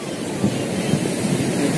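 Surf washes onto the quiet west beach at Pangandaran, a steady close rush of waves with wind buffeting the microphone throughout.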